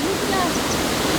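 Rushing water pours steadily at a water mill wheel in the Anina Mountains, a loud, continuous roar with no breaks.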